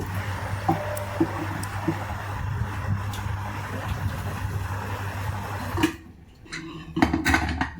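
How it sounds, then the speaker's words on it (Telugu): Metal pots clink and clatter in a home kitchen as a pressure cooker is handled and its water drained, with a low steady hum underneath and a brief quiet patch before more knocking. "కుక్కర్ తీసేసి అవి వాటర్ అంతా డ్రైన్ చేసేస్తున్నాను"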